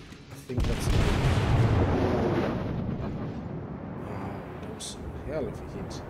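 Heavy naval guns of the Japanese battleship Kongo fire in World of Warships, a deep rumbling boom that swells early and rolls on under continuing low noise and talk.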